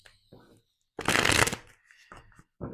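Tarot cards shuffled by hand in one loud, close riffle-like burst of rapid flicking, with a person speaking softly before and after.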